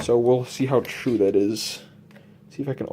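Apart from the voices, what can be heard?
No everyday noises stand out.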